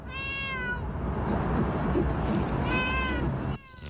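A pet cat at SeaTac International Airport meows loudly twice, one long drawn-out cry at the start and another near the end, over a steady noisy background.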